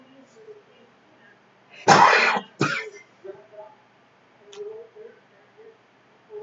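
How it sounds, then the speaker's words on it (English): Two sharp coughs or throat clearings burst out close to the mic, one right after the other, followed by quiet with faint mouth noises. "Why is it I cough a lot when I come on video"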